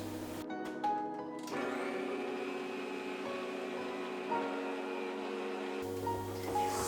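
An electric mixer creams vegan butter and sugar for cookie dough, a steady loud whirring motor drone with a brief change in pitch partway through, running alone without talk.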